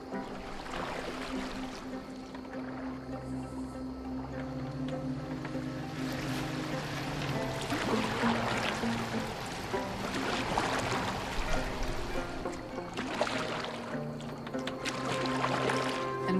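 A boat moves across water in the video game Assassin's Creed Valhalla, with waves washing and splashing, wind, and a low game score underneath.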